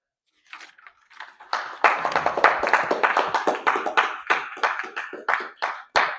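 Small group clapping in a room after a live-streamed talk, sparse sharp claps building quickly into a brief, uneven round of applause with distinct individual hand claps close by.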